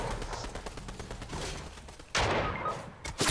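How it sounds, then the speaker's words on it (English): Gunfire in the video game Fortnite: a dense, rapid stream of shots rattles on steadily, then a louder, harsher burst of fire cuts in near the end. "Yep, they're shooting at me."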